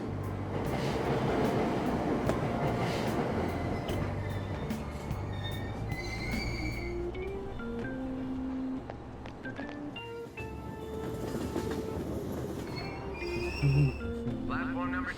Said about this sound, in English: Ride the train.